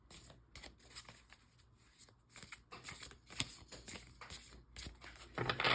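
Large tarot cards riffle and slap together in a series of uneven shuffles, close and fairly soft, with small pauses and a louder clatter near the end.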